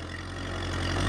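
New Kubota MU 4501 tractor engine straining under load while pulling a cultivator through a field, a brief, steady low drone that swells slightly.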